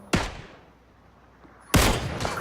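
Two loud, sharp gunshot bursts from a PUBG battle-royale match, one at the start and another more sustained volley later, separated by a quieter stretch.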